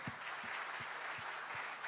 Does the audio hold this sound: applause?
yes